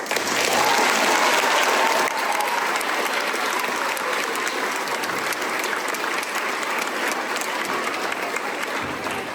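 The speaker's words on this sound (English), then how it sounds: "please join me in giving him a huge round of applause" A large audience at a school spring concert claps continuously, a dense, even roar of applause that holds steady and tapers slightly toward the end.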